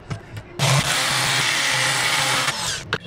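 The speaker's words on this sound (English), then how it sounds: "I'm gonna need to drill a hole." A power drill bores a hole for a DIY hammock slackline grip, a single continuous loud whine of about two seconds, framed by short quiet handling sounds.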